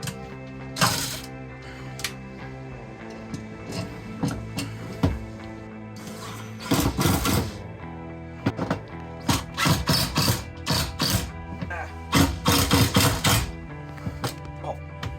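A power drill whirs in repeated short bursts separated by pauses, pre-drilling holes inside a Toyota Coaster bus, loud and close, with some mechanical clicking between runs.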